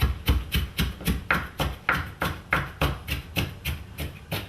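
Onion being chopped with a knife on a cutting board for black bean soup, a steady run of about fifteen crisp, evenly spaced chops up close with no talking.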